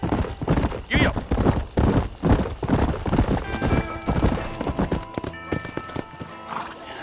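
A horse gallops in the Red Dead Redemption video game, hooves clip-clopping in a fast rhythmic patter close by, with a whinny and a voice urging it on among other game sounds.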